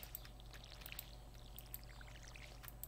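A watering can sprinkles crops in the farming game Stardew Valley, giving a soft, faint, continuous pouring and splashing water sound over a low steady hum.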